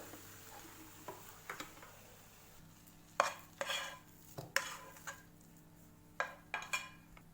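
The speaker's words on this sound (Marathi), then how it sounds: "याच्यामध्ये आम्ही वेलची पावडर घालू। याला आम्ही मिक्स करू।" Cardamom powder being stirred into puran poli filling in a metal pan, a series of intermittent scraping and tapping strokes of the spoon, close and moderately loud over a steady low hum.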